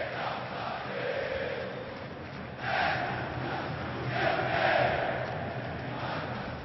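Corinthians football supporters in a stadium roar in a dense, continuous wash of crowd noise that swells twice, with no break, during a 2011 league match against Vasco.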